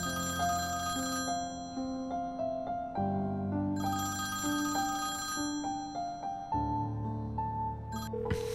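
A mobile phone ringtone plays in a Turkish drama series dubbed into Persian: a bright, repeating electronic melody that runs steadily for several seconds, clear and unaccompanied by speech.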